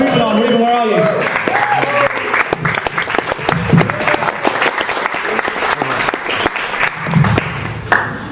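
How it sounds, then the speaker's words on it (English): Loud audience applause fills the room as a comedy night moves to its second act, with dense clapping, cheers and some talk mixed in throughout. "So, if you can clap, and you two"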